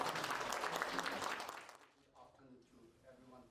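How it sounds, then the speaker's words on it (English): An audience claps at a state-level launch of a school health and wellness ambassadors programme, with steady applause for about a second and a half that then dies away into quieter murmurs and talk. "Please give a round of applause."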